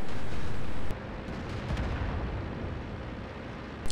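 A tank cannon fires in World of Tanks on the Sand River map with a Pz38nA. One loud, booming shot is followed by a long rumbling decay with faint crackles.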